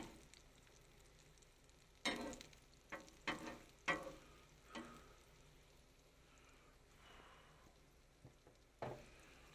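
Eggs and bacon sizzle softly on a breakfast griddle, the quiet frying broken by several sharp scrapes and taps of a spatula moving the food around.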